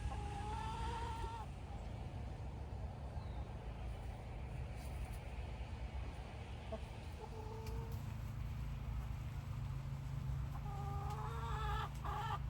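Several chickens cluck and murmur nearby over a low steady rumble, with short throaty calls recurring throughout.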